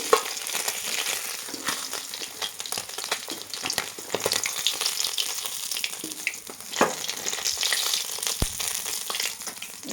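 Bata fish fry in plenty of oil in a wok with a busy, crackling sizzle, broken by scattered pops and stirring scrapes. No one speaks.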